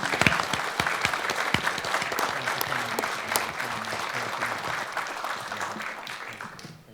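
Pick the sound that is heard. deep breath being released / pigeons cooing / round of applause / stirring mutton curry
round of applause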